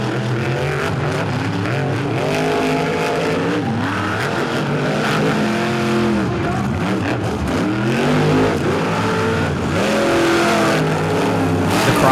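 Monster trucks race around a dirt track at a back-to-school bash event, several engines revving and shifting loudly throughout with rising and falling pitch, close and continuous.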